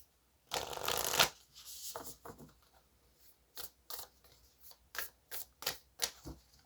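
A deck of Quantum Oracle cards is shuffled in one dense riffling burst, then cards are drawn and laid down in a string of crisp, separate flicks and slaps, close and clear.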